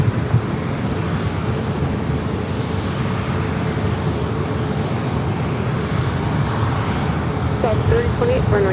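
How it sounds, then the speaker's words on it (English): Southwest Airlines Boeing 737 MAX 8 at San Diego airport on runway 27, a loud continuous jet engine roar filling the clip, with a brief faint voice near the end. "takeoff, Southwest Airlines flight 3028, heading to San Jose, a 737 MAX 8"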